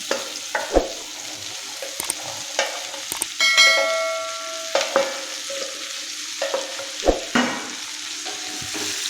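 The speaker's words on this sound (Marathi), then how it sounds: "भेंडी परतून मिक्स करून घ्यायची आहे" Half a kilo of washed, chopped okra being stir-fried in a pan, a steady sizzle broken by repeated spatula scrapes and clinks against the pan, close and clear with no talking.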